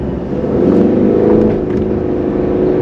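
A car engine runs steadily while the vehicle backs slowly along a new-build road in a housing development. The drone is loud and continuous, with a mild rise in the middle, and no one speaks.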